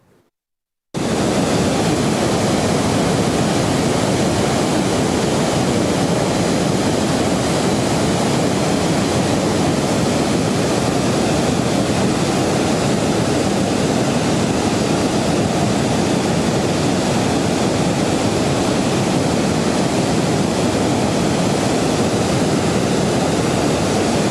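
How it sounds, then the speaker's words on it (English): A waterfall pours with a dense, unbroken rush of falling water, starting abruptly after a second of silence and then holding loud and steady at close range. "Hear the sound of the waterfall."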